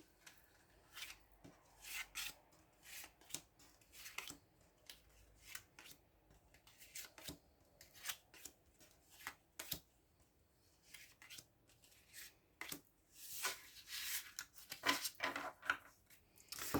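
Tarot cards are shuffled and drawn in a quiet room, giving soft riffling, sliding and light slapping sounds in an irregular series of short bursts that grow busier toward the end.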